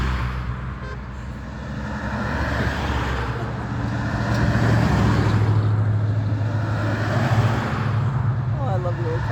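Old classic cars roll past on a car tour on Old 27 in Gaylord, Michigan, a steady, fairly close engine and road rumble that swells and fades, with a horn toot and people talking over it.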